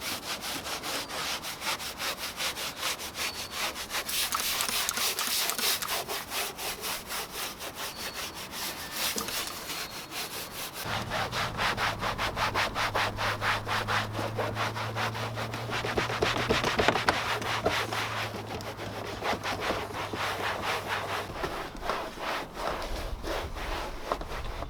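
Scrubbing of dirty plastic van floor mats with a Tough Shine tyre brush and all-purpose cleaner, a continuous rhythmic rasping of bristles dragged back and forth, close and steady, with a low motor hum underneath in the second half.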